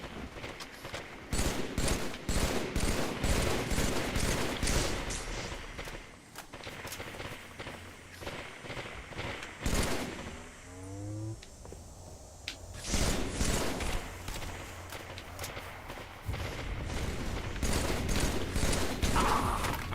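Halo video game gunfire, bursts of rapid shots in dense volleys, broken by a quieter gap with a brief mechanical reload-like whir before the firing resumes, fairly close and sustained.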